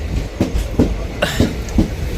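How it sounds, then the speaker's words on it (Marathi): Rhythmic clickety-clack of train wheels over rail joints as two trains depart Sindhudurg Nagari station together, regular thumps about every half second, steady rumble underneath. "दोन्ही ट्रेन एकाच वेळी निघाल्या इथून"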